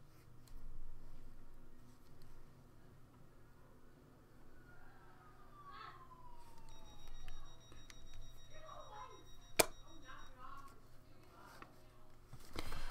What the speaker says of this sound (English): That beeping sound is when the door closes.